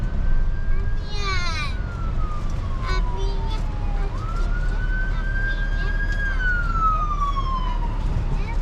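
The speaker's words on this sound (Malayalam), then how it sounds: "മുന്നിൽ ഒരു ആംബുലൻസ് വരുന്നു" Ambulance siren passing on a road near Niagara Falls, New York, its wailing tone sweeping up and down over steady car road noise, heard from inside a pulled-over vehicle, with a brief voice early on.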